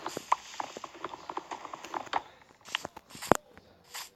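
Horse hooves clip-clop in a video game, a quick, irregular run of hollow knocks up close, with a sharper thump near the end and no talking.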